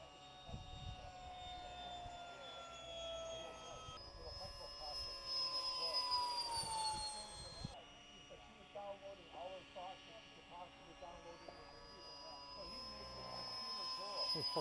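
An electric ducted fan on a Habu 2 RC model jet with a HET 1W40 motor and fan combo runs at full throttle. Its steady, fairly faint high-pitched whine rises and falls as the jet passes.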